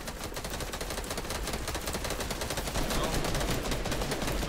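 Rapid automatic gunfire sprays continuously in a competitive shooter match, dense crackling bursts loud and close for the whole stretch, with no voices.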